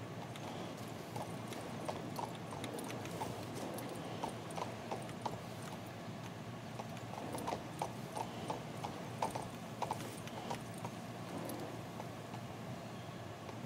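Horse hooves clip-clop steadily in the video game King's Bounty 2, a continuous run of close, even hoofbeats over a constant ambient bed, with no talking.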